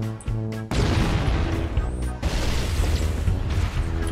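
Explosion detonating in Halo CE's Library mission, a sudden heavy boom followed by a long rumbling, crackling tail, loud and close.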